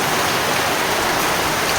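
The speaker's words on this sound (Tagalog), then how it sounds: "Ganyan ang ulan maghapon." Steady heavy rain pours down in a constant dense hiss, close and loud, with no voices.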